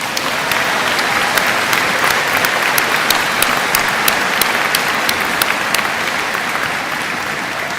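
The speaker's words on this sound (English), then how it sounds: "Let's give them a round of applause." A large crowd at a college graduation ceremony claps continuously, a thick, even wash of applause with a few sharper nearby claps standing out, sustained loudly from start to finish.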